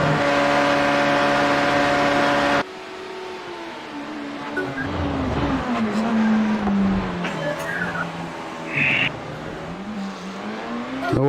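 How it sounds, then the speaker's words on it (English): LMP2 prototype race car in an iRacing endurance race at Le Mans, an engine note rising and falling through gear changes, with a brief tire squeal; a steady high engine tone cuts off abruptly near the start. "The LMP2 coming up."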